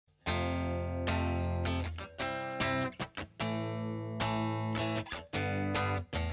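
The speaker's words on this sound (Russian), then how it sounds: "Также нам понадобится эффект дисторшн или, как у меня, овердрайв." A simple rock riff on one string of an electric guitar, played with a pick through an overdrive pedal, rings out as sustained, gritty distorted notes with short breaks, loud and close with no talk.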